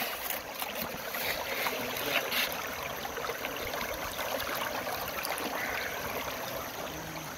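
Stream and small waterfall pouring over cracked bedrock, a steady broadband rushing wash that holds constant throughout with no voices.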